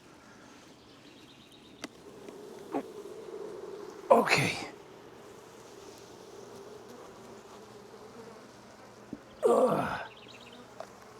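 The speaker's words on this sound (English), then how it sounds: "there's lots of bees in there now" Bees hum faintly and steadily in a beehive, with two louder close bursts of buzzing or breathy noise near the microphone and a person murmuring briefly.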